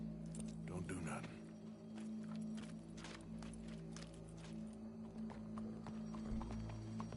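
Horse hooves clip-clop steadily on the ground in the video game Red Dead Redemption 2, with a brief whinny near the start, all faint and under a low ambient background.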